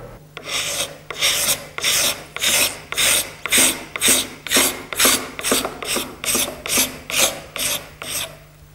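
A skinning knife beveled on one edge scrapes along the grain of old wood during furniture restoration, producing about fifteen evenly spaced rasping strokes that are close, steady and alone.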